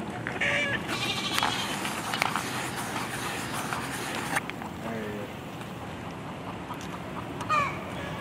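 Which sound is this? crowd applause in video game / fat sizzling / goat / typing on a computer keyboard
goat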